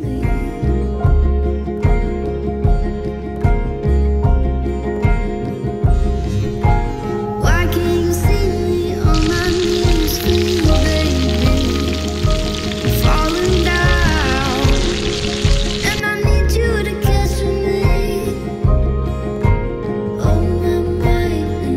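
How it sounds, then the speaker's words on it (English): Potatoes sizzle over a campfire by a river channel, a loud continuous crackling fry with dense spitting that swells brighter midway, while people talk nearby. "Potatoes are just sizzling."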